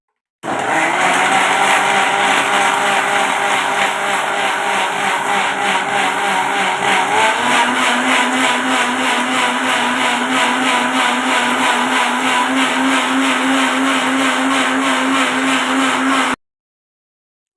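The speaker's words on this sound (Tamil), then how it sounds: "இதெல்லாம் மிக்சியில் நல்லா அடிச்சிக்கலாம் இப்போ மிக்சியில் அடிச்சிக்கலாம் நல்லா" An electric mixer grinder whirs continuously while blending apple with milk into juice, a loud steady motor drone whose pitch shifts once partway through and then holds until it stops abruptly.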